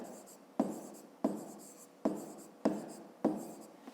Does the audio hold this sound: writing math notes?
yes